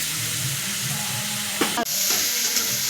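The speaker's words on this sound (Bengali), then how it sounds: "সবজিটাতে মশলার সাথে কষিয়ে একটু ভেজে নেব" Continuous loud sizzling of vegetables frying with spices in a hot pan, with a brief scrape of stirring near the middle.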